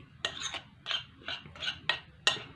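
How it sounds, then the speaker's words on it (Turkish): A spoon stirring powdered sugar and cinnamon in a bowl, six evenly spaced scraping strokes against the bowl, close and soft. "Bunun ikisini bir kaşık yardımı ile güzelce şu şekilde karıştırıyoruz."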